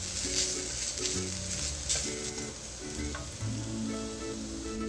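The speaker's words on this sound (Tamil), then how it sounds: "இந்த தேங்காயில் இருக்கிற ஈரப்பதம்லாம் போகிற அளவுக்கு இது நல்லா வறுபடணும் இந்த நெய்லேயே." Grated coconut roasts in ghee for sweet somas, giving a soft, steady sizzle that runs the whole time beneath louder tonal background music.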